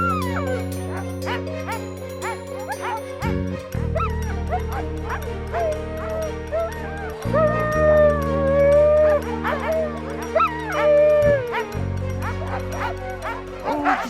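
Several dogs bark, yip and howl together in the Jura countryside in a lively, overlapping chorus that rises into long wavering howls and continues without a break. A low, droning tonal hum runs steadily underneath.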